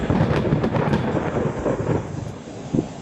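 Thunder from lightning in the video game Dream Daddy, on a chilly night at a theater: a loud, sustained rumble with rain-like texture that rolls on for three seconds, with a fresh low crack near the end.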